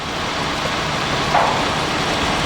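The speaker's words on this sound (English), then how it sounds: "It is pouring down rain right now." Heavy rain pours down steadily beside a train trailer during track-segment hoisting, in just-above-freezing weather, forming a dense, constant hiss with no letup throughout.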